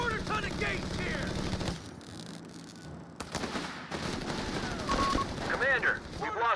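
Video game battle in Company of Heroes 3: machine-gun bursts and rifle fire crackle continuously with a brief lull, while voiced unit callouts and shouted commands play over the combat.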